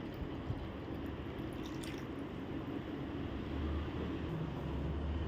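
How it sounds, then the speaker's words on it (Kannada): Two cups of water are poured into a horse gram huruli ambali mixture in a kitchen, making a steady, continuous, moderately quiet pouring and splashing sound that runs unbroken throughout, with no talking. "ಅದಕ್ಕೆ ಇವಾಗ ನಾನು 2 ಕಪ್ ನೀರನ್ನು ಸೇರಿಸ್ತಾ ಇದ್ದೇನೆ."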